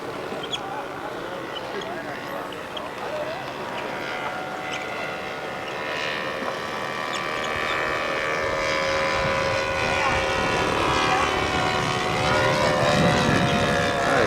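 A small airplane in flight drones with a steady, close engine and propeller hum that slowly rises in loudness, while someone talks over it.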